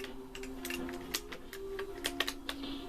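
Rapid clicking of keyboard or controller buttons while playing Batman Returns on SNES, an irregular run of light taps and clicks, faint and close, over a low steady electronic hum.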